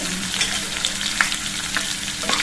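Chopped green chili and fine-cut ginger frying in a pan, giving a loud, continuous close sizzle with small crackles and pops throughout and no voices.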